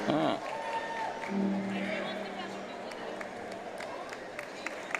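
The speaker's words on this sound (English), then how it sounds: "And you hear the crowd approve" Crowd cheering and applauding in a gym during a boys' regional tournament basketball game between Johnson Central and Pike Central, a steady roar of noise with a voice calling over it and a brief vocal shout early on.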